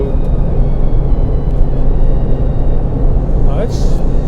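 A Suzuki Jimny with old gear ratios holds its engine above 4,000 RPM at about 100 km/h going downhill, giving a loud, steady in-cabin drone with road rumble and a brief hiss near the end.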